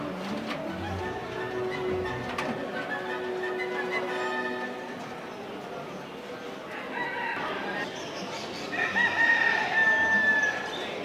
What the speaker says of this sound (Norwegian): Det er litt for små bur til det er to fugler inne i alle fall dette her.